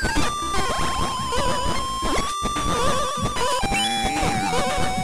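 Boss fight theme music from the Donkey Kong Game Boy game, a busy, dense chiptune loop with bright high melody lines over driving bass, playing steadily and loud throughout with a brief dropout near the middle.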